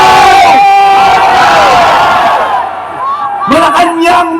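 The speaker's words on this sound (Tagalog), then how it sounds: "pakinggan niyo ang sigaw ng sambayanang Pilipino" A large crowd of Filipino protesters shouts together in a loud, sustained roar, fading briefly before a fresh burst of yelling and whoops rises again near the end.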